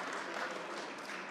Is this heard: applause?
yes